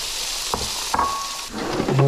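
Olive oil sizzles in a frying pan, a close steady hiss broken by a few clinks and scrapes as the pan is tilted and stirred.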